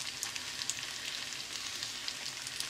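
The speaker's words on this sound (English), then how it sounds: "And just stir that through the whole recipe as well." Beef stroganoff sizzles steadily in a hot pan as sour cream is stirred through the meat, a close, continuous frying crackle with small spatters and no talking.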